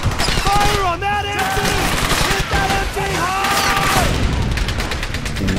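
Gunfire in the World War II shooter Brothers in Arms: a loud, dense fusillade of rifle and machine-gun bursts that continues throughout, with shouted voices and music mixed over it.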